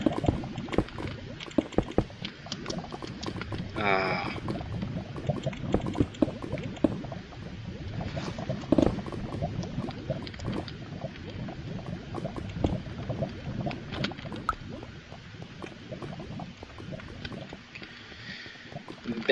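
Lava bubbling and gurgling in the Nether in Minecraft, a steady liquid churn with scattered pops and plops that runs on for nearly twenty seconds, with no talking over it.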